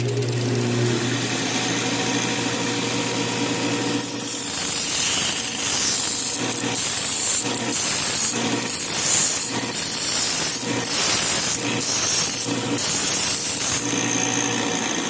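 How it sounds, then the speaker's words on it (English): A disc or vertical belt sander hums steadily, then a servo disc is pressed against it in about eight loud, rasping grinding bursts in a regular rhythm, with no talk. "how to sand this on the disc sander or vertical belt sander"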